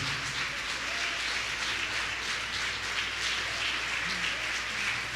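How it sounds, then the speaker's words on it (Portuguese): A church congregation applauds in praise during a worship service. The applause is a steady, fairly soft wash that holds evenly for about five seconds, with no talking over it. "Vamos dar uma linda salva de palmas para aquele que pode nos dar tudo."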